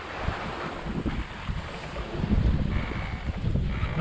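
Sailboat under sail leaving Fiordland, with constant wind rush buffeting the microphone and waves swishing and slapping against the hull, a steady loud wash with no talk.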